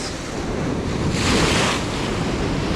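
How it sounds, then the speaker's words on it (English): A big ocean wave crashes against rocky shoreline while shore fishing for bonito, a loud close roar of surf that swells to a peak midway and then washes back, mixed with wind buffeting the microphone. "I'm going to have to back up for any big waves."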